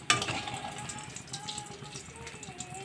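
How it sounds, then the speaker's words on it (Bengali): Pumpkin singara fry in hot oil with a soft, continuous sizzle and bubbling that opens with a brief sharp splash, then settles into a low, even crackle. "ধৈর্য ধরে ভাজতে হবে"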